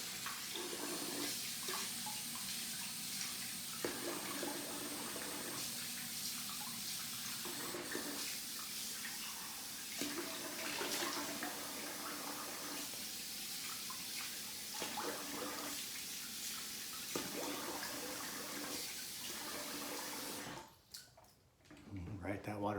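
Tap water runs steadily into a bathroom sink for about twenty seconds as a face is rinsed after a shave, a continuous close splashing rush that cuts off near the end.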